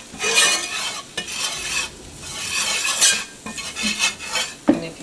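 Chicken pieces in flour stirred around a pan, with a utensil scraping and clattering against the metal in uneven bursts over a steady close sizzle of frying.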